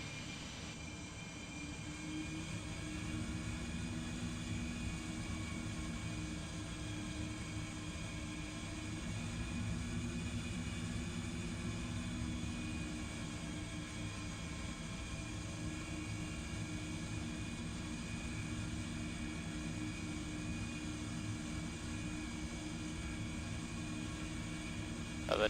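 Boeing 737 in a flight simulator rolling slowly on the taxiway, with a steady broadband engine roar and cabin hum held at an even level throughout, plus a faint tonal whine above it and no talking.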